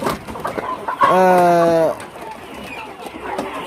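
A chicken gives a drawn-out, loud cluck-squawk, with softer scattered clucks and farmyard noise around it.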